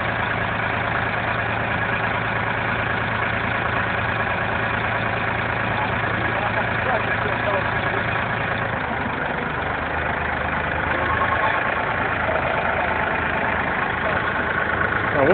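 A big tractor engine idles close by in a constant low, throbbing rumble that holds steady the whole time, with voices faintly underneath.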